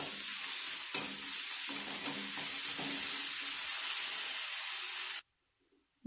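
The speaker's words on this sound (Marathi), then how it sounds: "मिरची कांद्यासोबत 1-2 मिनिट परतून घ्यायची आहे।" Green chillies, crushed garlic and onion sizzling and frying in a pan for palak bhaji, a steady hiss with a few stirring clinks, then cutting off into near silence.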